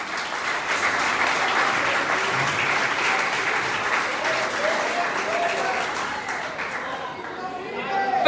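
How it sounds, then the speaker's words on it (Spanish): Loud, sustained applause fills a church worship service led by an evangelist, a dense steady wash of many hands clapping with voices faintly mixed in toward the end. "Pero ese aplauso fuerte a Dios"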